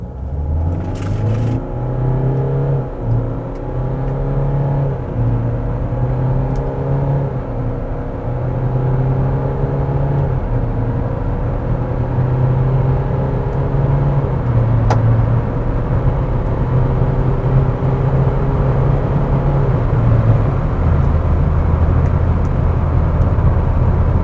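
Renault Kadjar 1.6 dCi with X-Tronic automatic accelerating from 0 to 100 in drive, a steady loud diesel drone with rising engine tones, smooth CVT-like pitch sweeps and a few shift dips, heard from inside the car with no talking.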